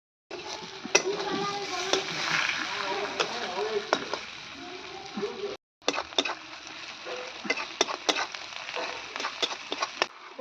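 Masala-coated chicken sautés in oil with fried onions in a kadai wok: a continuous close sizzle broken by repeated scraping stirs, with a brief silent cut midway.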